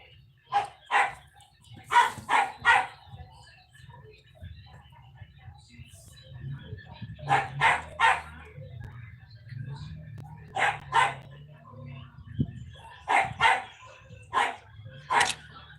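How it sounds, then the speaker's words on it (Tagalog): A dog barks in repeated bursts of several sharp barks, fairly close and loud, with pauses between bursts and a low hum running underneath. "maingay yung aso"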